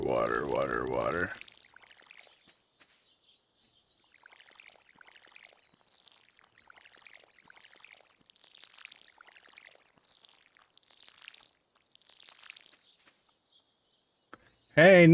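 Crops being watered in the Stardew Valley video game make a run of faint, tinkly splashes in an even rhythm. Short bursts of talk come at the start and the end.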